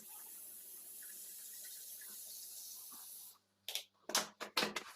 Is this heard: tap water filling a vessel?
yes